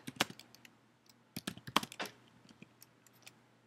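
Typing on a computer keyboard, close and clear, with bursts of key clicks separated by short pauses and no talk.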